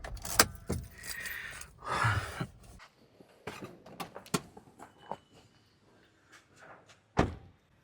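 Keys jangle and a car door thunks shut as a CNG car is switched off after a Mumbai–Pune round trip, with several sharp slams, clicks and rustles, one loud bang near the end.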